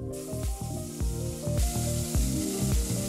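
Ground spice paste hits crackling whole spices in a pressure cooker for dum aloo, giving a loud, continuous sizzle over a faint melodic background.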